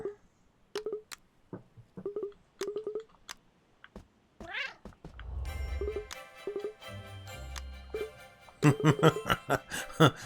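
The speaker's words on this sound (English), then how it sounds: "Gentle meow." Cat meows in the video game Cat Quest, a series of short, clipped meows in quick bursts, later mixed with game music, chiming effects and low thuds.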